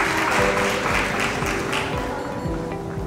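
Audience applauding at an award ceremony, a steady wash of clapping that fades slightly toward the end, with a sustained musical tone playing underneath.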